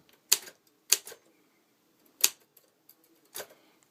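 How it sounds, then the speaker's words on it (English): An older Olympic typewriter types a few slow keystrokes: four sharp, separate clacks at uneven intervals with faint mechanical ticks between them, close and quiet in a calm room. "here we are demoing this nice little Olympic typewriter"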